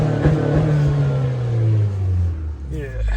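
A 2023 Acura Integra engine revs up loudly and then settles back down in one sustained rise and fall, recorded close by with a voice talking over it.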